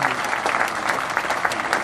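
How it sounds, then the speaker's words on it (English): An audience aboard a Carnival Vista cruise ship gives a steady round of applause for military veterans at an appreciation gathering, dense clapping from many hands filling the room at an even level. "Could you please stand up and take a round of applause at this time?"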